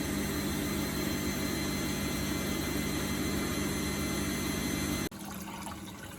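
Steady broadband rushing of water churning inside a Bosch WFF1800 washing machine on a 90-degree cotton rinse, loud and constant, cutting off abruptly near the end to a quieter hum.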